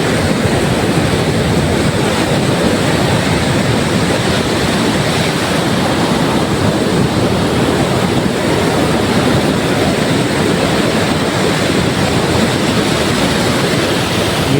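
Sea waves wash onto the beach at Gopalpur in a continuous, loud, broadband rush of surf with no pauses, and no voices are heard.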